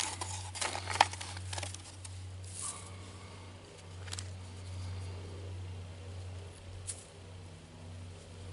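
Paper crinkles and crumples in a few brief bursts near the microphone before being dropped into a minnow trap outdoors, followed by quieter rustling against a steady low hum.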